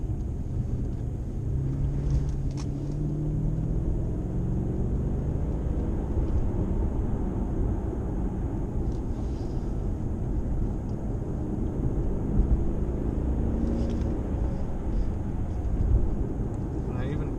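A 2007 Mercedes-Benz CL550 drives briskly along a winding road, its engine a steady low rumble with road and wind noise throughout, heard from inside the cabin.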